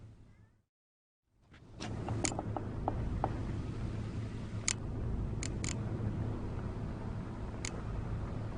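Scissors snipping hair in The Witcher 3 video game: a handful of crisp, quick snips scattered through a steady low ambient hum, with no talking.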